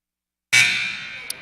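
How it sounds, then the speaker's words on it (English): Loud electronic buzzer at a volleyball match blares abruptly after half a second of silence, a sustained harsh tone that slowly decays, with a brief sharp knock near the end. "I waited for the buzzer that time. We heard it."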